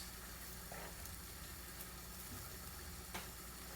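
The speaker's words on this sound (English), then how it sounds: "And then I'm gonna let it simmer just a few moments" Chicken chasseur sauce simmers quietly in a pan, giving a faint, steady low sizzle and bubbling hiss with an occasional soft tick, and nobody speaks over it.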